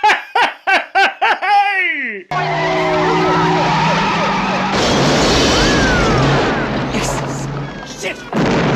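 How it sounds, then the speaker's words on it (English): Movie car crash with an explosion: laughter-like bursts at the start, then a sudden loud impact giving way to sustained roaring, crashing and screeching noise with a heavy blast in the middle. "a car runs into something and there's a little explosion and then boom!"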